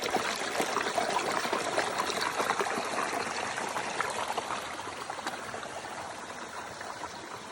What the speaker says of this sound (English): There is some clear, cold water here in Sage's Ravine.